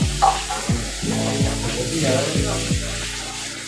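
Food frying in a pot of hot oil, a loud, close, continuous sizzle and crackle with rhythmic scraping thuds as it is stirred.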